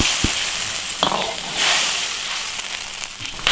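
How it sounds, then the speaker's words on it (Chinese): Pig blood and squid hit a hot wok of spicy Sichuan maoxuewang broth and sizzle in a steady, loud, close crackle for the whole stretch, with no talk. "猪血跟鱿鱼下锅"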